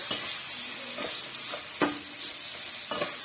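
Tomatoes, dried red chillies and salt sauté in a pan with a continuous soft sizzle, punctuated by a few distinct spatula scrapes and taps against the pan.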